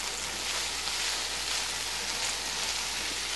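Garlic shrimp sautéing in olive oil and butter produce a steady, even sizzle with a rain-like crackle, moderately quiet and continuous with no talk.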